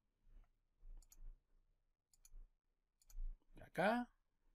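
A computer mouse clicks during Fusion 360 CAD work: a few soft, sparse clicks and a quick double click, near and quiet, with a brief burst of voice near the end.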